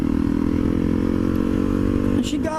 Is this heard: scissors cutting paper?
no